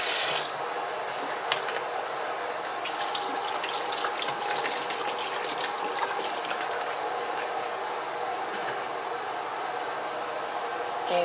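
Tap water runs steadily into a sink over raw chicken being washed with vinegar and half a lemon, a continuous close splashing hiss with brief louder gushes, no talking.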